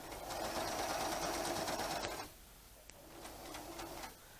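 A sewing machine stitches through quilt patchwork for mini flying geese blocks, running steadily for about two seconds, then stopping and giving a few softer, scattered ticks.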